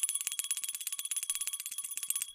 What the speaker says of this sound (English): Tinkly bells for my dude Shane.